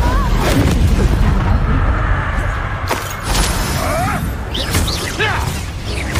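Booming Bombarda blasting spell explosions in Hogwarts Legacy, loud rumbling impacts with crashing debris amid busy combat noise and game effects, sustained across the stretch.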